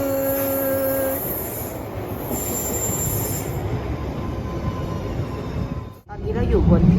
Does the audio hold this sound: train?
yes